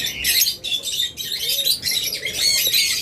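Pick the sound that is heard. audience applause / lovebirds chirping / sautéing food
lovebirds chirping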